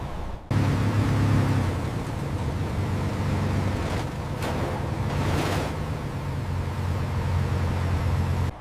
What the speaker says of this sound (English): The lorry maintains steady speed.